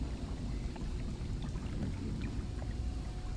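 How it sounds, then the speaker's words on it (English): Lapping, pouring water echoes through a bay in a Fallout Tale of Two Wastelands level, a steady close wash of liquid noise with small splashes throughout. "Bay sounds like water."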